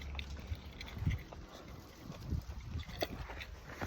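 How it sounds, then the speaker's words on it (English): Gusty outdoor wind buffets the microphone on a residential street in Carlsbad, California, a low rumbling roar rising and falling in irregular bursts beside a junk removal truck. "It's a windy day."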